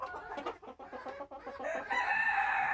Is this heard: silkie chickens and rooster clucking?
yes